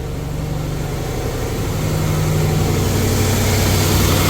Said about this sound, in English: Forgive me, my truck is loud.